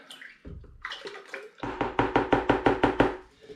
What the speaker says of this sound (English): I'll get my big spoon and give it a big stir.